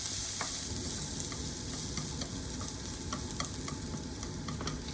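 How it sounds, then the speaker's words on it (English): Onions frying in a pan for a quick Japanese pork dish, a steady close sizzle with occasional scraping stirs and light clicks throughout, no voices. "First, fry the onions."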